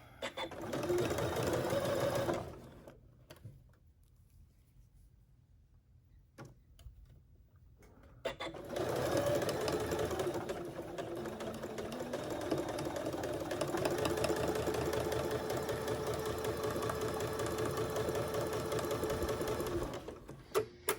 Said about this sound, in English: we are stitching, removing these pins as we go